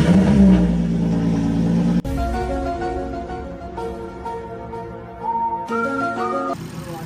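A car engine, a Crown under repair, turns over and revs in bursts, loud and close, with the pitch climbing and dropping between throttle blips and no talking.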